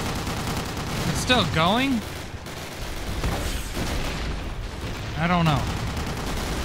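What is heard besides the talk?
gunfire in the video game Call of Duty: United Offensive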